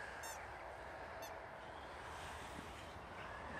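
A squeaky rubber duck toy gives two short honking squeaks, the first a quick double squeak and the second about a second later, both faint over a steady indoor background hum.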